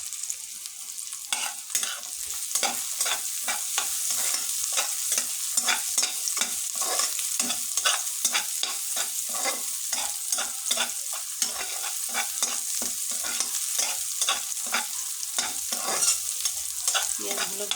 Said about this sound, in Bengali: পেঁয়াজগুলো ভালোভাবে ভেজে নিয়ে